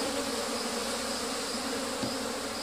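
Honeybees swarm around an opened hive while old combs are swapped for wax foundation, giving a dense, steady buzz that stays even and close for the whole stretch.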